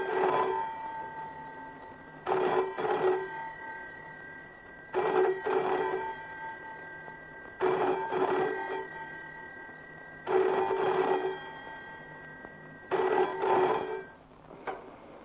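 Telephone in an old Bollywood romantic drama, ringing in six loud bursts of about a second each at steady intervals, with no talk over it.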